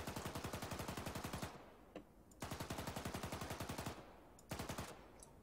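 The machine gun of a BMP-3 in Arma 3 rattles off two long, evenly paced bursts of rapid shots, with a few isolated single shots in the gaps between and after them.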